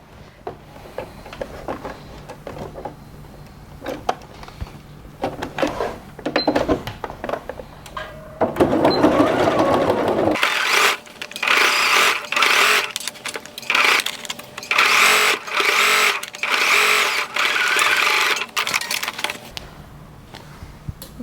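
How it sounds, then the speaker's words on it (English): A sewing machine stitches the waistband and facing of harem pants, with quieter handling clicks at first, then fast, loud rattling bursts of stitching in several runs before stopping. "And then we're going to stitch from here all the way down to the other end."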